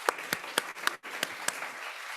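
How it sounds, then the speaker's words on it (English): Applause for the judges at a Pacific Northwest small business pitch competition: a handful of crisp, moderately loud claps land in a loose, steady rhythm, with a brief gap near the middle before the clapping resumes. "Let's give the judges a round of applause."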